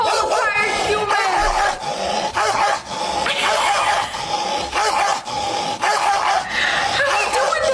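A man imitates a big dog with his voice, giving a run of deep, growling barks and yips close to the microphone, with short pauses between bursts.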